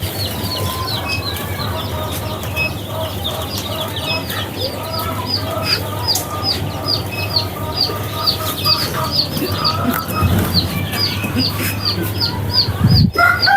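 Tiger breed chickens on a poultry farm cluck steadily and overlapping throughout, with occasional wing flaps and a brief louder squawk near the end, over a constant low hum.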